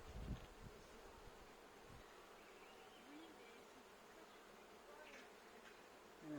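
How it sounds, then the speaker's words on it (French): Bees buzz around a flowering sumac in a garden, a soft, continuous humming drone of many insects with occasional louder passes close by, faint overall and with no voices. "J'ai l'impression d'être au milieu d'un essaim."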